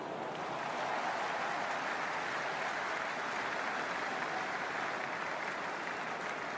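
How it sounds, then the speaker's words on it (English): A huge cricket stadium crowd at an IPL final between RCB and GT roars in a steady, dense wash of cheering and applause, sustained and fairly distant, with no clear voices on top. "There's a buzz, a real buzz coming from the stands."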